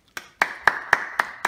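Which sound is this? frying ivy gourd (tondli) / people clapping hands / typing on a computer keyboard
people clapping hands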